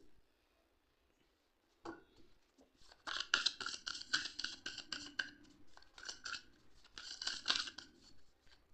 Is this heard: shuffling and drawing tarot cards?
yes